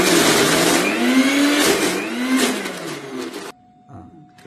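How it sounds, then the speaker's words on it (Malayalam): A kitchen mixer grinder blends sweet potato for halwa in its jar, a loud whirring motor that rises and falls in pitch as the load shifts, then cuts off abruptly, leaving a faint hum. "ഞാനിതാ മിക്സിയിലോട്ടത് ജാറിലോട്ടിട്ട് അടിക്കാനാണ്."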